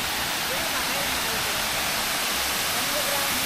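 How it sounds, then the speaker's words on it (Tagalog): The 120-metre Dao Falls in Samboan, Cebu, Philippines, roars as a loud, dense, unbroken rush of falling water that fills the whole scene, with no distinct voice over it. "Ito na yung Dao Falls."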